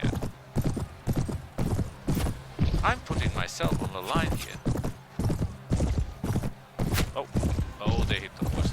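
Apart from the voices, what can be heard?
horse galloping in video game Mount & Blade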